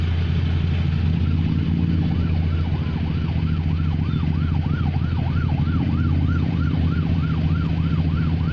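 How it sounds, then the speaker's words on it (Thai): A rescue vehicle and an ambulance respond during a storm in Mae Sai, their siren wailing in quick, regular rising and falling sweeps over a loud, steady engine rumble close by. "ตอนนี้รถกู้ภัยได้รถโรงพยาบาลมาช่วยเหลือแล้วครับผม"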